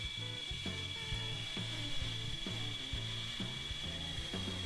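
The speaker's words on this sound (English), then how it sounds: "Now this finish grinding really doesn't take all that long" A knife blade's bevels are finish-ground on a grinder, a steady motor hum with a rhythmic rubbing scrape repeating about once a second as the blade passes, fairly quiet and with no talking.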